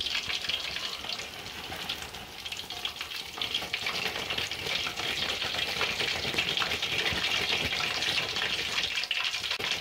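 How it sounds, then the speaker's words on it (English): Crispy fish pakoras made with corn starch and flour scrape against a metal spider spoon while being lifted from hot frying oil. Steady bright sizzling runs throughout with faint scraping, moderately close. "You can hear it rubbing against the metal of the spider spoon."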